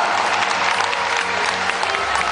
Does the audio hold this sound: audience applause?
yes